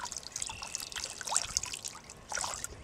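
Acid from an old car battery trickles and splashes out of the tipped casing, a faint, continuous liquid dribble with uneven spatters and no voices.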